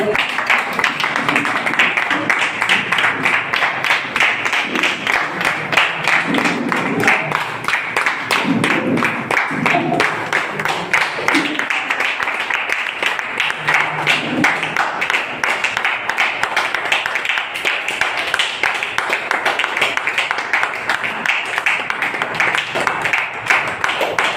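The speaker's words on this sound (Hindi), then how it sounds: "क्या बात है, तालियां।" Audience applause fills a venue program for Asclepius Wellness in Ghazipur: dense, steady clapping from a sizable crowd that keeps going at an even level for the full stretch, with a voice occasionally showing through.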